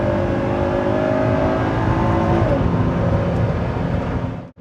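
A sports car in sport mode accelerates hard, its engine rising in a loud continuous roar heard from inside, with a gear change midway before the sound cuts off abruptly at the end.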